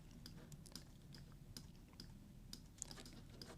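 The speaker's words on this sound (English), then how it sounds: "I'm using Z on the keyboard to keep zooming in" Computer keyboard keys pressed repeatedly, the Z key used again and again for zooming: a quick, uneven series of light, sharp clicks at close range, fairly quiet, with no voices.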